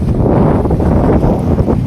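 Steady, loud wind buffeting the microphone outdoors at Sawangan Park, Legazpi City, a continuous low rumble with no pauses.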